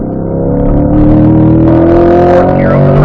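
A C8 Corvette accelerates hard around a race track, its engine a loud, steady, rising drone with no break, heard close from inside the car.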